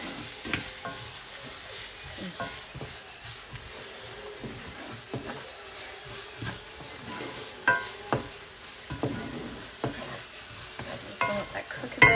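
Afghan bolanee frying in plenty of oil, with a continuous soft sizzle and frequent clattering bursts as the pan is handled, moderately close.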